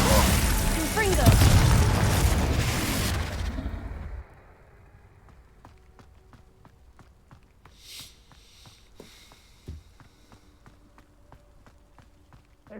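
A Confringo fire spell bursts in Hogwarts Legacy, a loud roaring blast that fills the first four seconds before fading to quiet footsteps and small scattered taps.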